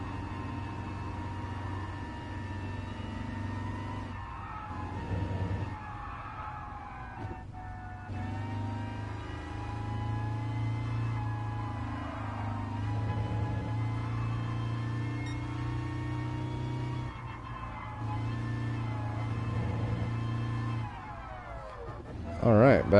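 Bus engine in Gran Turismo Sport hums and revs steadily with a low drone that rises and falls over the stretch, with a brief sharper rev near the end.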